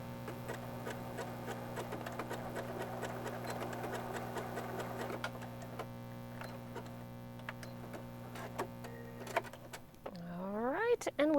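A sewing machine stitching the armhole seam of a sweater-knit cardigan runs as a steady close mechanical hum, then stops partway, leaving faint handling sounds before a brief rising whir near the end.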